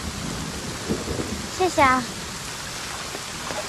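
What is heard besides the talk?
heavy rain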